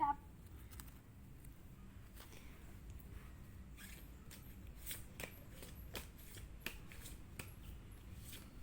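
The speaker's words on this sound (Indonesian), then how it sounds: "Kita shuffle kartunya." Tarot cards being shuffled by hand close up, a run of soft riffling flicks and sharp card snaps that come in irregular bursts, quiet and alone with no talking.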